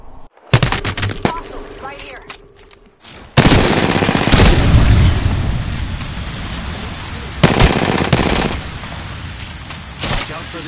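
Loud, dense gunfire from the video game Apex Legends, with rapid automatic bursts and blasts that run almost continuously, plus short pauses and brief game sounds around them.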